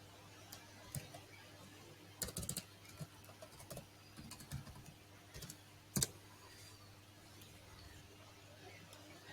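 Someone types a password on a computer keyboard: faint, irregular bursts of soft keystroke clicks, with light talk in the background.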